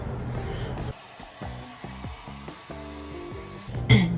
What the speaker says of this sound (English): I'm midway through blow drying